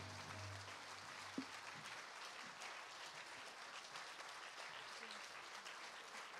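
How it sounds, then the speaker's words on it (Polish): Concert audience applauding, a steady, fairly faint wash of clapping that carries on evenly throughout, with a brief low tone near the start. "Gorące brawa."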